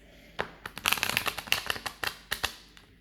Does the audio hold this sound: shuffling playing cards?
yes